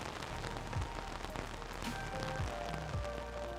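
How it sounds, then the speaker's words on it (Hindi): Steady rain hisses across the whole clip, broad and constant, with a few soft low thumps scattered underneath. "और बारिश शुरू हो गई।"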